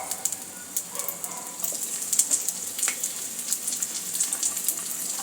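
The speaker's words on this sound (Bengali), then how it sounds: "ফুলকপিটা একটু ভেজে নেব।" Cauliflower fries in mustard oil in a kadai, giving a crackling, spitting sizzle with uneven bursts and pops up close.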